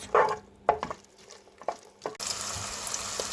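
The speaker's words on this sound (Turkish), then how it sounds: "Soğanlarımızı kavuruyoruz." A few sharp clinks of stirring in a pan, then a steady, loud sizzle of onions sautéing in hot oil.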